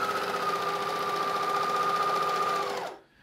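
A Juki MO-104DN/MO-114DN overlocker sews steadily with a fast, even mechanical whir and a sustained high hum, then stops abruptly near the end as the chain runs out; close and alone, no voices.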